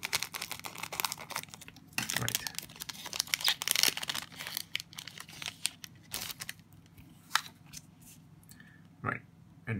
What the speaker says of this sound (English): I'm not gonna tear, I'm gonna use scissors this time.